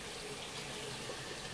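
Vegetables, including bok choy and basil, are rinsed under a running kitchen tap, giving a soft, steady hiss and splash of water that stays even throughout and is heard alone without any talk.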